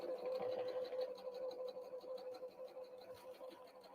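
A sewing machine runs a straight seam with a back stitch through Christmas tree napkin fabric, sewn with Deco Bob thread. A steady, close whirring hum carries rapid, even needle ticking throughout, with no voices.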